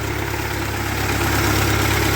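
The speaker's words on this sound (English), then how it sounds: "The engine's warming up." A 1948 Ford 8N tractor engine idles just after startup, a loud, steady close rumble with even low-pitched firing and no voices.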